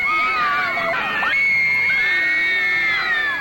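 A huge crowd of Beatles fans in Adelaide, 1964, screams and cheers at a near-constant high pitch, shrill young voices layered densely and loudly for the whole stretch with no letup.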